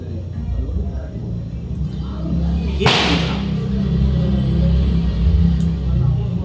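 A single sharp firecracker blast cracks out near the middle, loud and sudden, against steady low background rumble and noise.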